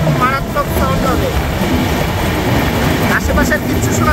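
Madhumati Express with an LHB rake running at about 100-plus speed, a loud steady rumble and rushing roar filling the whole stretch without letup.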